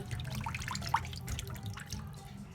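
Raw chicken is washed under running water for a roast, with a quiet, steady trickle and a few soft drips and splashes.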